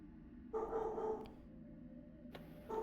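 Dogs bark outside, a muffled, distant bark or two with a drawn-out whine between, faint and heard through walls in a quiet room.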